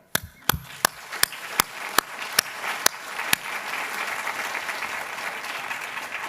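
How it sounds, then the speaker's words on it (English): A few sharp, spaced handclaps start things off, then a room full of people at a graduation ceremony breaks into steady, sustained applause that carries on to the end. "I think applause is in order."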